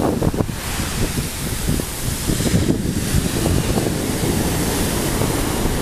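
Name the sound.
wind on a beach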